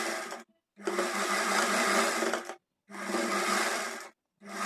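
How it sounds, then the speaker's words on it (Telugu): A sewing machine runs a seam on a Punjabi dress top in three close, steady whirring bursts separated by short silent pauses. "ఇప్పుడు ఒక కుట్టు అయితే వేసాం కదా దీనిపైన ఇంకొక కుట్టు కూడా కుట్టుకోవాలి"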